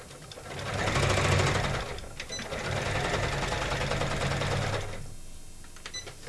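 A sewing machine stitches through thick, layered handbag material in two long runs of fast, rattling needle strokes, with a short pause between them. It sounds close and clear.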